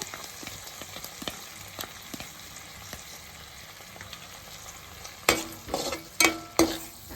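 Sauces stirred into frying cashew chilli paneer in a pan with tomato sauce, vinegar and red chilli sauce. A faint, low sizzle runs under several sharp bursts of spoon scraping and stirring near the end.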